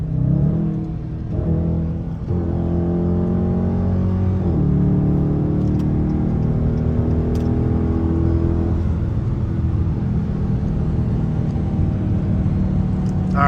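A 2022 Dodge Challenger R/T Plus driving at night, its engine and drivetrain whine rising and falling in pitch over a steady road rumble, loud and close from inside the car.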